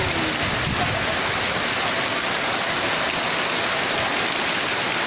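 Rain falls steadily in rural Surin, Thailand, a dense, constant hiss of drops on surfaces with no pauses and no voices.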